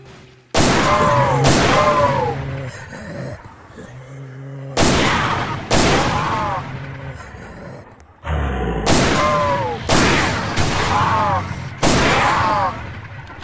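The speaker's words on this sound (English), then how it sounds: "notice the difference here with the far away versus the up close shots of the Barrett" Barrett rifle shots in the Roblox game Project Lazarus, about seven loud, sharp cracks spaced a second or more apart, some distant and some close, each with a ringing tail, alone.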